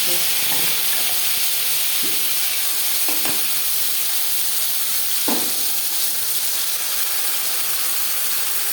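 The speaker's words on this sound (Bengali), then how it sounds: "তিন চামচ রিফাইন্ড অয়েল গরম করে নিয়েছি দিয়ে দেব মশলা" Whole spices fry in three spoons of hot refined oil for chana masala, with a loud, steady, close sizzling hiss broken by a few brief stirring knocks.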